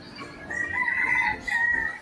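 Birds call in an enclosure at Batu Caves in Malaysia, a shrill crowing cry rising twice over about two seconds, faint and somewhat distant.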